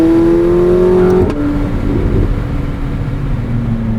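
A 2024 McLaren 750S engine revs up hard, its pitch rising steeply, then drops sharply at a gear change before climbing again, loud and close from inside the cabin.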